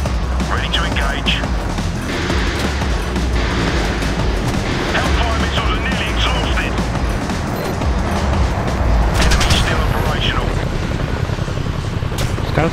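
Apache helicopter combat in the game Apache Air Assault: a constant rotor drone beneath bursts of gunfire and booming impacts, with voices talking over the action.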